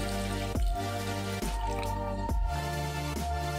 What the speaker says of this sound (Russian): Заливаю водой так, чтобы вода покрывала полностью желудки.